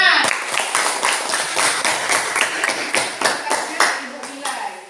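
Students in a classroom group activity clap together in a brisk burst of distinct, fairly close handclaps that continue steadily for several seconds without talk.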